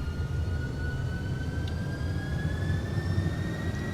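Simulated MD-11 tri-jet engines at takeoff thrust in X-Plane 12 give a loud, steady roar with a rising turbine whine layered on top, sustained without pause and no talking.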